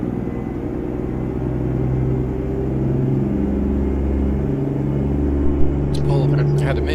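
A heavy truck with an MX-11 engine drives along in American Truck Simulator, its steady low engine rumble continuous throughout with a slight swell, and a few faint clicks near the end.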